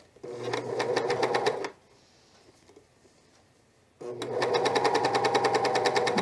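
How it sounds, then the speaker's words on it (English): Sewing machine stitching a fleece pullover seam: two loud, steady bursts of rapid mechanical stitching, close up, separated by a quiet pause of a couple of seconds. "try and get right where you started the sewing, like sew a little bit right on top of what you've already sewn"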